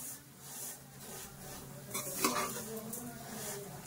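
Semiya vermicelli stirred and fried over a low flame in a pan gives soft scraping and rustling with faint sizzle, plus a few brief clinks of a utensil against the metal, fairly quiet throughout.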